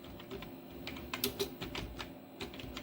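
A computer keyboard is typed on while writing Python code, producing a quiet run of light clicks at an uneven pace, with a couple of slightly sharper keystrokes in the middle and no voices.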